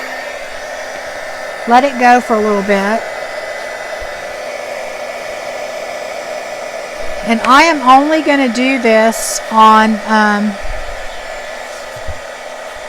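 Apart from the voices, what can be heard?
heat gun blowing hot air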